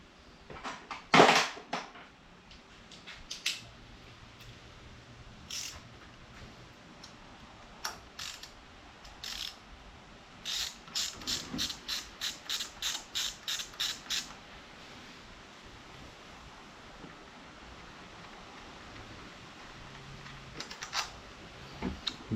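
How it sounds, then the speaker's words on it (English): Torque wrench tightening bicycle handlebars during home repair, giving a run of quick, close ratcheting clicks in short bursts with scattered metallic taps and quiet pauses between. "I'm gonna go ahead and get the handlebars torqued down."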